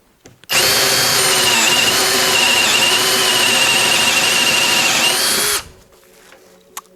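A Vitals Professional AU 1860Pbt cordless drill-driver in first speed bores into pine board with a Forstner bit, a loud close whirring grind holding steady for about five seconds before stopping abruptly.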